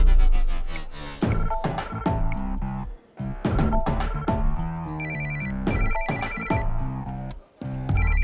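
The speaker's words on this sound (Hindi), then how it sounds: "पापा, किसका फोन है?" A phone ringtone plays loudly and continuously as a bright melodic tune, repeating with brief pauses, close by with no talking.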